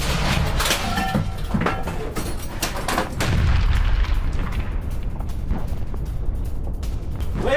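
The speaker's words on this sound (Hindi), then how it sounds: "रॉपिरा एंटी टैंक गन से गोलीबारी की गई है।" A Russian Rapira anti-tank gun firing on Ukrainian positions in Donetsk, heard as loud booming shots with rumbling echoes and rough outdoor noise throughout.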